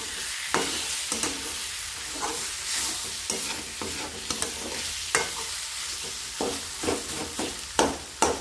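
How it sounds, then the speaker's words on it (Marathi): Eggplant, onion, chili and garlic stirred together in a hot pan for baingan bharta, with a steady frying sizzle and repeated scraping clatters of a spoon against the pan, close and alone without talk. "सगळ्याकडं एकत्र वांगे कांदा मिरची लसूण सगळं एकत्र हलवून घेऊया"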